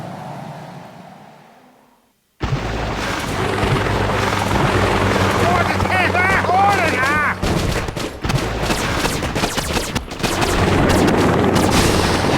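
Heavy chopper helicopter attack in the Boom Beach Warships game: loud, continuous rotor thrum under bursts of gunfire and explosions, starting abruptly after a quiet fade, with rising whistling effects mid-battle.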